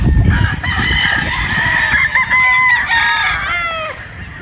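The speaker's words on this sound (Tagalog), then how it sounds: "Wapong manok to" A Sweater Boston Gray gamefowl stag crows loudly and close by, one long drawn-out call, with a few clucks and other fowl sounds around it.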